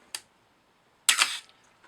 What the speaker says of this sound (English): fire off a few shots